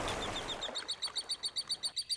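Budgerigars give a quick, evenly spaced series of about a dozen bright chirps, close and fairly clear, following a short rush of broadband noise at the start.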